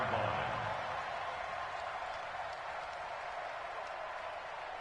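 Stadium crowd noise from a PS4 American football video game, a broad steady roar of cheering and applause that fades slightly over a few seconds, with no voices standing out.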